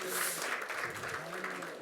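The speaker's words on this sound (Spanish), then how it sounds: "Un aplauso para nuestras panelistas y panelistas." An audience at a regional education meeting gives the panelists a short round of applause, a soft, distant-sounding spread of clapping that stays even throughout its brief length.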